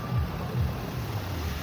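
City bus number 6 ploughing through a flooded street in Jodhpur, Rajasthan, with a steady low rumble and broad watery wash, close and continuous and free of talk.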